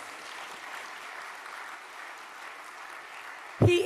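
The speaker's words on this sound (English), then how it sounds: "Could we give the minister another round of applause?" Sustained audience applause at a Jamaican business investment conference, a steady wash of clapping from a large crowd that carries on evenly, ending in a sudden loud thump.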